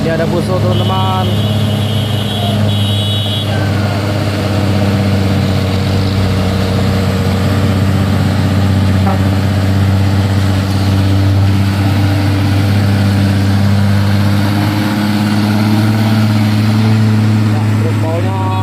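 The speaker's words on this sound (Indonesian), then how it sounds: "Ini ada Fuso teman-teman." Mitsubishi Fuso truck engine idling and running near a hillside road, a steady low rumble holding throughout with people talking over it.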